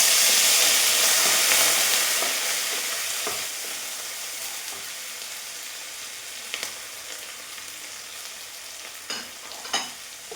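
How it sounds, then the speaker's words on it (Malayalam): Chopped green chili, garlic and curry leaves hit hot oil in a pan with a loud burst of sizzling that gradually dies down to a softer crackle, broken by a few sharp stirring clinks. "മൂന്നാല് പച്ചമുളക് ചെറുതായിട്ട് അരിഞ്ഞതും ഒരു അഞ്ചാറ് വെളുത്തുള്ളി ചെറുതായിട്ട് അരിഞ്ഞതാണ് കുറച്ച് വേപ്പില ഇതെല്ലാം കൂടി ഇതിനകത്തേക്ക് ഇട്ട് കൊടുക്കുക"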